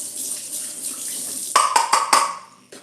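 Liquid poured out from a cup into a kitchen container while cooking chicken pastry dumplings, heard as a soft trickle that gives way to a few close splashy pours in quick succession.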